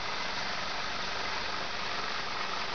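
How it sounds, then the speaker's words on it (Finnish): A steady, even electrical hiss of corona discharge from a high-voltage source fills the whole stretch, constant in level with no breaks or voices. "Suhiseva ääni tulee koronapurkkauksesta."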